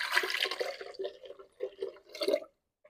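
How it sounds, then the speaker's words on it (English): Plain water for split pea soup is poured from a blender cup into a pot, giving a splashing, gurgling pour in uneven bursts that stops abruptly near the end. "we're going to add another 3 cups of plain water"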